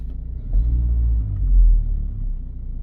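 A used car idles with a low, steady engine rumble and a faint droning whine, swelling slightly twice, heard from inside the cabin without talk.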